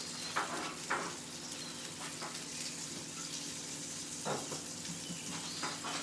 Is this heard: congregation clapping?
no